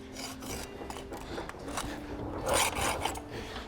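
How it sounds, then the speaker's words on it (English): Abrasive mesh polishing around the foot of a model, heard as a steady rasping rub in short repeated strokes, close and moderately loud, with no talk. "I'll go around the foot, give it a quick polish"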